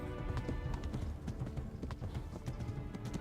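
A horse gallops along a road in Kingdom Come: Deliverance, its hooves pounding in a fast steady rhythm close by, with harness jingle and a low rumble underneath.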